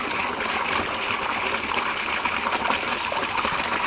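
Water from a well gushes strongly into a 2-gallon bucket in springtime, a steady, dense rushing splash that stays loud and unbroken throughout.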